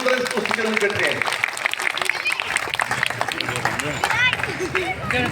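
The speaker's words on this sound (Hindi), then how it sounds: "जोरदार इनके लिए एक बार तालियां बजाओ" Crowd at an outdoor political rally in Haryana claps and cheers steadily throughout, a dense wash of applause mixed with babble and a voice over a loudspeaker.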